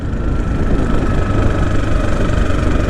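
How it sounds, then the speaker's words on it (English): Motorbike cruising along narrow country back roads between Cookham and Hambledon, its engine a steady, continuous drone with no break, close and fairly loud throughout. "This is why I have a motorbike, to come on little country lanes like this."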